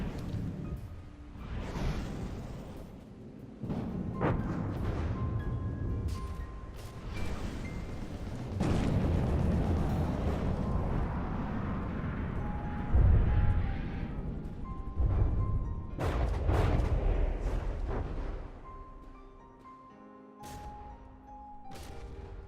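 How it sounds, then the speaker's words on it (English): Missiles launching from a warship in the naval combat game From the Depths, a dense run of whooshing launches and booming blasts layered over a continuous roar of battle, with brief louder bursts rising and falling throughout. "Already it's spurting missiles out towards the enemy."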